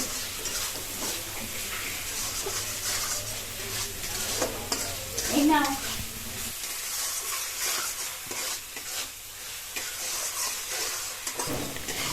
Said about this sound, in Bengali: এখানে মশলাটা খুব সুন্দর করে এখানে আগে কষাই করে নিচ্ছে